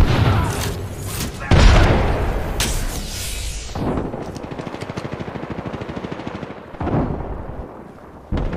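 A grenade explodes in the Apex Legends shooter game with a loud, sharp blast, followed by rumbling booms and rapid gunfire, with a voice speaking over the action.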